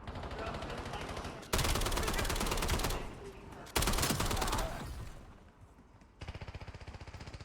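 A SOKOL LMG light machine gun fires in a video game, with long sustained automatic bursts, loud and close, broken by short pauses and a shift in firing rate near the end.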